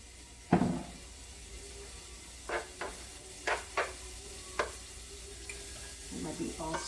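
Onion and garlic cooking in olive oil in a pan for spaghetti sauce, a low steady sizzle broken by several sharp utensil knocks and scrapes against the pan, with a busier stirring flurry at the end.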